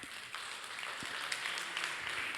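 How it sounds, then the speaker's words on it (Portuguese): Congregation applauding at a church service, a dense, steady wash of clapping held at an even level throughout, fairly close and without voices on top. "Quantos podem dar uma salva de palmas para Jesus?"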